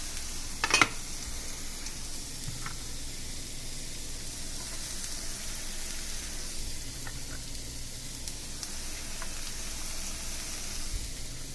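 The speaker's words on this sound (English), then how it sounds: "you then can add in the additional ingredients, such as your garlic and your ginger" Garlic and ginger sizzle steadily in a pan of stir-fried vegetables, a soft, continuous frying hiss with an occasional clink of a utensil near the start.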